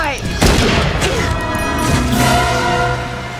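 Gunfire from the horror film I Still Know What You Did Last Summer, a sharp loud shot followed by ringing, echoing crashes and rumble over the film's score.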